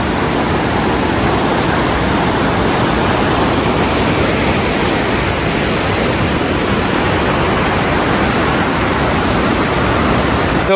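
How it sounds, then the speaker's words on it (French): A river rushes below a mountain footpath near Chamonix, making a steady, dense broadband roar that holds at an even level and sounds close and continuous, with no voices. "on entend une rivière en bas"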